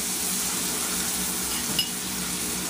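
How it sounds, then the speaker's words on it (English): Beef pot roast searing in a hot pan, browning on each side; a steady, moderately loud sizzle and crackle runs throughout with one brief clink near the end. "you just want to brown all 4 sides"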